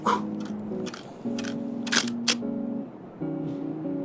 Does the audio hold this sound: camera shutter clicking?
yes